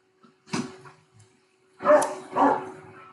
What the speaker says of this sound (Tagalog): Medyo maingay aso, patahimik mo lang na konti.